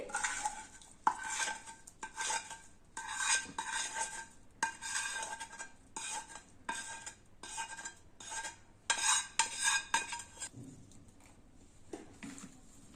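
A spoon scrapes and clinks rhythmically against a metal pot in bursts, stirring thick amla (Indian gooseberry) pickle, with brief pauses between strokes.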